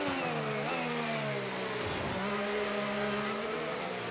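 Formula 1 car in a racing video game at the Melbourne circuit, sliding around as it goes. Its engine gives a loud, continuous high-pitched whine that rises and dips with throttle, with no pauses and no talking.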